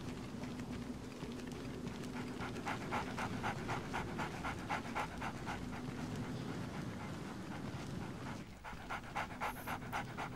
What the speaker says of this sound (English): Right, so the dog is there.